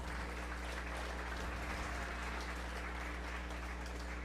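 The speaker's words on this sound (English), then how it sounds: "Let's give all our breed champions a round of applause." A round of applause for breed champions at a 4-H fair beef show, a steady wash of clapping from a crowd that sounds distant and faint over a low constant hum.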